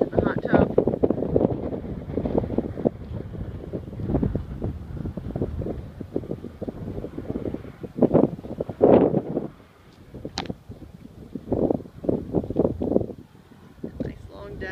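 Wind gusting across a microphone on a beach-house deck in Salvo, North Carolina, rumbling and buffeting in uneven bursts while a person talks through most of it.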